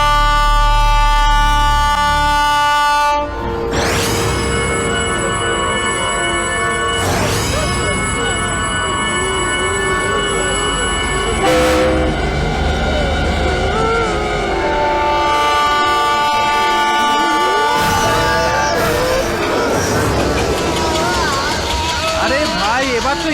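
A train roars past loudly and close, its horn blasting in several long bursts over the steady rumble of the rail cars, with voices faintly mixed in.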